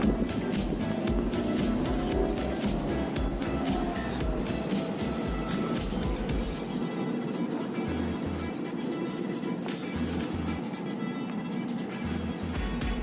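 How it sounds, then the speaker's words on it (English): A large vehicle pulls away with a loud, steady rumble of engine and road noise that fills the whole stretch, with little talk. "this humongous vehicle is leaving right now"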